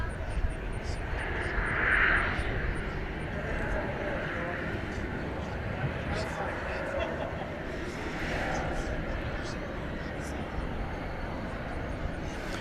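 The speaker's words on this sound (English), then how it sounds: "there are parallel landings quite often on the east side, as they have 2 incoming runways" Jet airliners landing at DFW Airport at night on parallel east-side runways, a steady distant engine roar swelling slightly near the start, with someone talking over it throughout.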